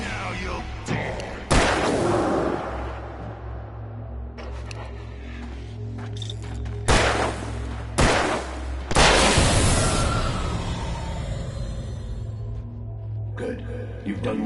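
Gunfire rings out in Alan Wake Remastered: a handful of sharp, booming shots spaced seconds apart, each echoing and decaying, over a low steady rumble of background ambience.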